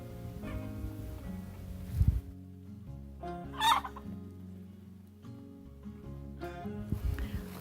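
Several birds cluck and squawk close by in short bursts, with a sharper call standing out midway over low background hum.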